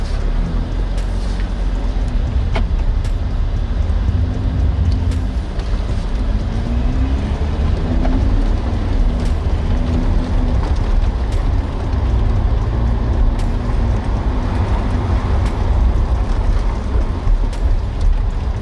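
A 2016 Lamborghini Huracan Spyder starts and pulls away, a loud, steady engine drone with a low rumble that holds throughout, heard from close by with no talking.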